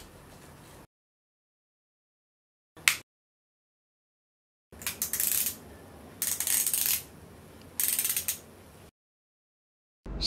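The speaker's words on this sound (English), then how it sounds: "Press and turn the cinch device to fine-tune the tightness of the strap." Ratcheting cinch dial on a K39d OA Corrector knee brace being pressed and turned to tighten a strap, heard as bursts of close mechanical clicking separated by silent gaps, with one sharp click in between.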